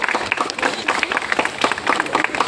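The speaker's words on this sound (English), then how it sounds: "A big round of applause for him." An audience at a school World Environment Day event applauds the Joint Director of Horticulture, a lively, continuous patter of many hands clapping at moderate volume.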